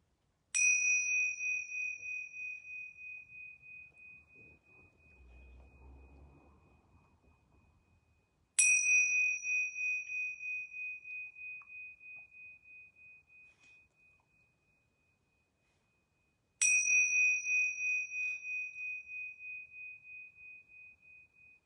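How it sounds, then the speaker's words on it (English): Yoga bells are struck three times, each a bright ringing tone that decays slowly over several seconds, evenly spaced in an otherwise quiet room, with a faint low rustle between the first and second strikes. "I'm going to ring these yoga bells 3 times."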